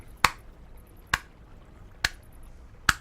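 Four sharp, evenly spaced claps ring out one at a time in a quiet room, slow and deliberate.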